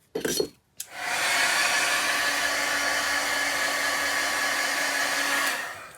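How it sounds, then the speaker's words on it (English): A couple of soft taps, then a craft heat dryer switches on and blows with a steady, loud whirring hiss. "going to hit this for a minute with my dryer."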